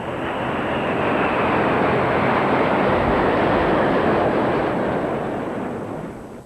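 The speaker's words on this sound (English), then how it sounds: "the flypast soared overhead, led by the venerable Swordfish" A flypast of 56 aircraft from 11 nations led by a Swordfish biplane gives a steady, broad engine roar overhead, loud and sustained, then fading slightly at the end.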